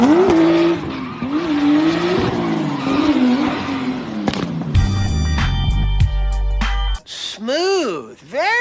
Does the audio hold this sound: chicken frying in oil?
no